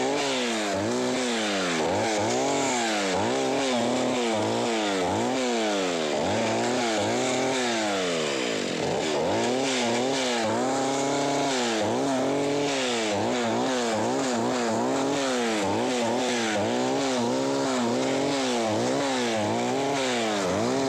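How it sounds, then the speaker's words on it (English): A chainsaw is started up in a woodlot for a kickback demonstration, its engine roaring loud and close for about twenty seconds, revving up and down repeatedly with no talk. "I'll start the saw up and I'll give you a short demonstration here of what I mean."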